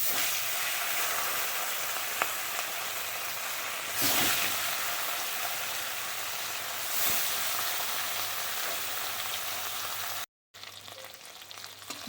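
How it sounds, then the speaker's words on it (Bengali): Fish sizzling in hot oil in a kadai, a continuous crackling fry close up, with brief louder spurts as pieces shift, before a short cut to quieter sizzling. "এবার মাছটা ভেজে নেব।"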